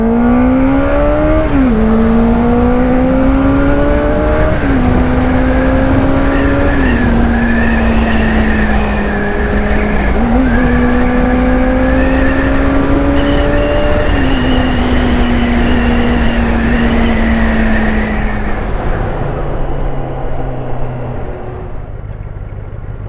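A QJMotor 600RC with a 600cc inline-four engine revving up through several gears, each rising whine broken by a short dip at the shift, then easing off to a lower idle near the end.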